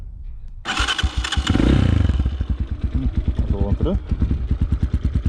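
A Zongshen 250 enduro motorcycle with a 172FMM engine starts up close by: a brief crank catches into a loud revving burst, then settles into a fast, rhythmic idle thump. Someone speaks briefly over the engine.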